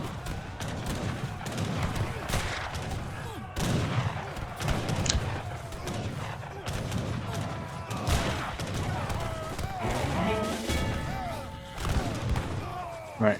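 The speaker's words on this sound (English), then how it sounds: "That's a lot of heavy cannons." Heavy cannons firing in a real-time strategy game battle, a dense barrage of booming shots and crashes overlapping almost continuously, loud and close, with a caster talking over the fighting.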